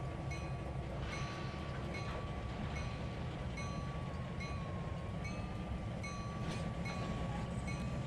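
A simulated train rolls steadily through the Trainz 2022 railroad game, with constant low rumble, faint rhythmic wheel clicks and a thin sustained wheel squeal running throughout at moderate volume.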